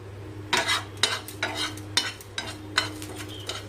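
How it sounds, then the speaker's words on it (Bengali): Coriander and cumin seeds dry roasted in a pan, six or seven rhythmic bursts of stirring and scraping with quiet gaps between, close and moderately loud. "তার জন্য ধনে আর জিরেটা একটু ড্রাই রোস্ট করে নিচ্ছি"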